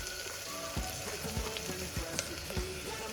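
Whole spices, including cinnamon, star anise, mace and cardamom, sizzle and crackle in hot oil in a pot for chicken pulao, a steady close frying hiss with soft clinks of stirring throughout.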